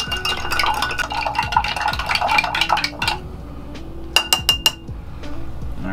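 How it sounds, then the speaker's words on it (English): A bar spoon stirs a cocktail around a solid block of ice in a glass, making a continuous close rattle and clink that eases off into a few sharp glassy taps near the end, with no voices. "Now you wanna put your bar spoon in so it doesn't splash all over you. And we're gonna stir for about 20 seconds or until frosted."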